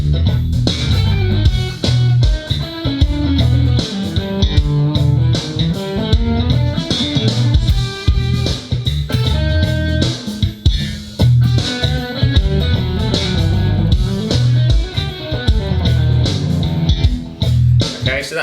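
Electric guitar plays melodic minor lines with an added major 7th, with dense, continuous pitched notes sounding loud and steady over a backing for the full length, with no talk.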